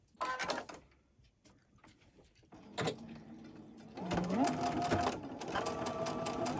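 A sewing machine stitches quilt rows in a fabric studio, a short burst at first, then a steady mechanical whir that runs continuously through the second half, close and fairly loud with some talk nearby.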